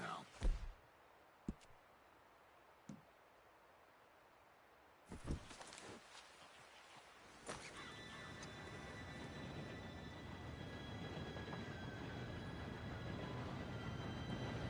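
A train approaching during a robbery setup in Red Dead Redemption 2, a low rumble building from quiet outdoor ambience with a few sharp knocks and footsteps into a sustained, growing roar with faint high whine.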